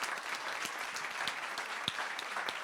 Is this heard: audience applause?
yes